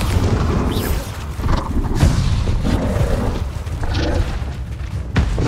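Bombarda spell explosions in the video game Hogwarts Legacy: heavy booming blasts burst out around two and five seconds, with rumbling spell effects between them, loud and up close.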